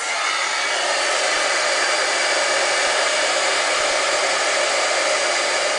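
A steady, loud blowing whir of an embossing heat tool running continuously and close by, with no talk.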